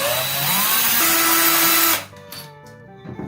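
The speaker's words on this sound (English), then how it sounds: "I like to make easy work of it, so I'm just going to use my drill." A cordless power drill whirs loudly and steadily, close by, while removing a fastener during a faucet repair, then cuts off abruptly after two seconds, leaving a few faint clanks and handling sounds.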